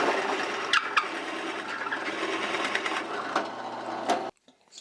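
A drill press bores into a walnut tool holder, giving a steady close whirring grind with a few sharp catches before it stops abruptly near the end.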